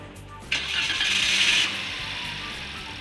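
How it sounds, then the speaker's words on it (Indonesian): A car engine cranks and catches after being jump-started from a portable power bank, roaring up loudly for about a second before settling into a steadier idle, close by with no talking. "kita coba starter mesin ini"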